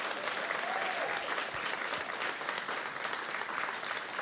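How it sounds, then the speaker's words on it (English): A crowd applauds at a guide dog graduation ceremony, a dense, even wash of clapping that holds steady throughout. "Can we get another round of applause for these wonderful..."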